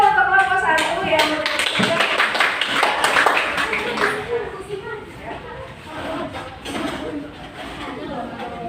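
Classroom audience clapping for a presenting group during a teacher-training performance test in Indonesia, a burst of scattered taps and claps mixed with chatter and voices, fading after a few seconds.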